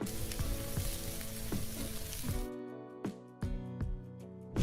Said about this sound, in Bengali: এই তেলের মধ্যে বেশি করে শুকনো মরিচ দিয়ে দিলাম